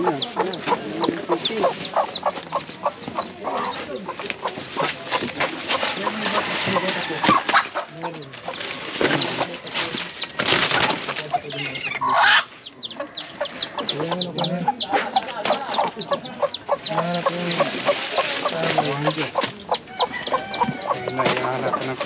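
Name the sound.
chickens clucking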